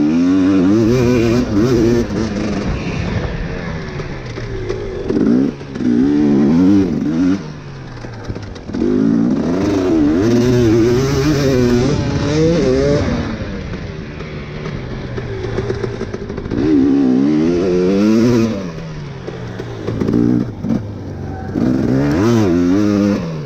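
A Honda CRF150R dirt bike lapping a track, its engine revving up and down in repeated surges and wavering pitch, loud and close, with brief dips between accelerations and no talk.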